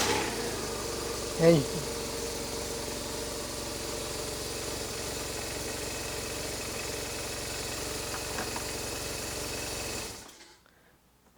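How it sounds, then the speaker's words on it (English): A BMW R1200RT motorcycle engine idling close by, a steady low rumbling hum that holds even for about ten seconds before cutting off, with a brief word spoken near the start. "I'm just gonna get up here and turn the bike on briefly. Now you do need to start it up."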